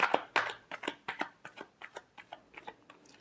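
Tarot cards being shuffled by hand, a quick close series of about a dozen crisp riffling snaps in a steady rhythm, each one a little fainter than the last.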